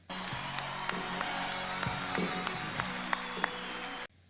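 An audience applauds bodybuilder Roelly Winklaar's stomach vacuum pose, a steady wash of clapping and crowd noise with scattered louder claps and cheers, heard at a distance, ending abruptly.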